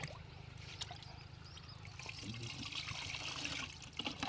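Rice-wash water is poured into a container while mixing a low-cost pest spray for a chilli field, a soft trickling and splashing that grows slightly fuller toward the end, quiet and close, with faint background voices.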